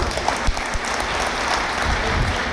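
A crowd claps steadily, a dense, even patter of applause filling the whole moment.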